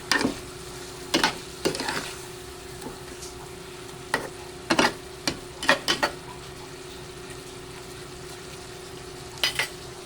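Sugar is stirred into chicken liver and gizzard adobo cooking in a pan. Sharp scraping strokes of a utensil come in irregular bursts over a quiet simmer and a faint steady hum.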